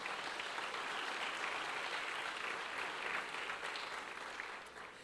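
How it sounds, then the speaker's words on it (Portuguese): Steady applause from a church congregation, broad and continuous hand clapping across the hall that holds level before easing slightly at the end, with no talking over it. "Quem recebe, aplaude o Senhor mais uma vez."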